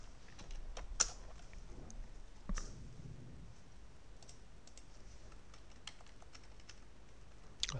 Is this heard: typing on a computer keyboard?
yes